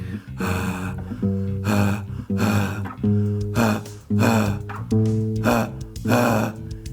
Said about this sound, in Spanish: De ahí empiezo a ir subiendo tratando de mantener el sonido de ronquido